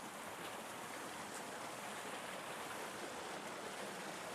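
A clear mountain river along Marcos Highway near Baguio rushes steadily in a constant broadband wash of flowing water, close and even, with no voices.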